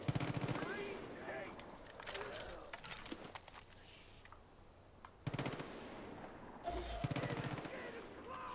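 Bursts of gunfire in the video game Far Cry 5 cut in several times over a steady game background, each short volley sharp and loud, with a voice talking in between.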